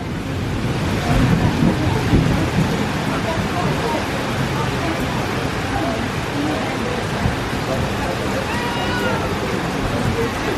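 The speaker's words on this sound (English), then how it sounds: "when it rains, it pours and thunders." Heavy rain roars steadily with low rumbling thunder underneath at Disney's Animal Kingdom, a dense, continuous wash of storm noise.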